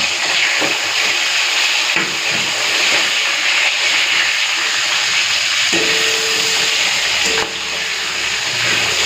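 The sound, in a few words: fish frying in hot oil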